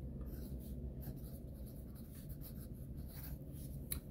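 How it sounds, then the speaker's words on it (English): A pen scratches across paper as a store location is written out by hand, soft and close, with continuous faint strokes and small taps over a low background hum. "I'm gonna write down this store location."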